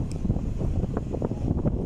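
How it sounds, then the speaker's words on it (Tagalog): Wind blows at the seaside, gusting against the microphone with a constant low roar and rumble, loud and close, with no voices. "Mahangin siya."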